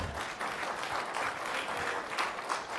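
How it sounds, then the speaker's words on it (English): An audience at a talk applauds, a steady wash of many hands clapping that holds at moderate loudness throughout without a break. "I don't think he got enough applause, so let's give him more."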